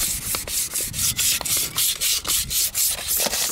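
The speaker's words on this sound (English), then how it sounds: "all I did to get the other ones looking brand new is use 2000 grit sandpaper" A car wheel is sanded by hand with 2000 grit sandpaper, dry, in quick back-and-forth rubbing strokes that repeat steadily and sound close and scratchy.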